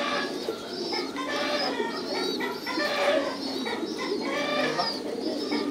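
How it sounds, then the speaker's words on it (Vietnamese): Thai Titan meat pigeons coo continuously in a loft, overlapping throaty calls from many birds filling the space at a steady, moderately loud level with no talk. "cái loại bồ câu Tuy Tam Thái siêu thịt này là cái giống mới đúng không?"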